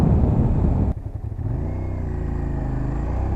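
Car engine in third gear during a clutchless upshift: a loud, steady engine drone that drops abruptly as the accelerator is released, stutters briefly, then settles into a lower, even hum.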